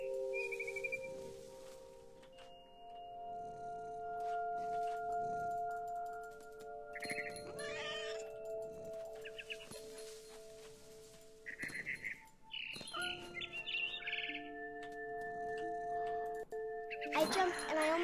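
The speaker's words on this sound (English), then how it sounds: "I heard chirping outside my window." Birdsong from a barn swallow in the video game What Remains of Edith Finch: scattered high chirps and tonal whistles over soft game music with sustained tones, moderately quiet and without talk.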